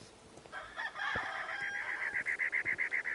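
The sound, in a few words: chickens clucking and crowing near a house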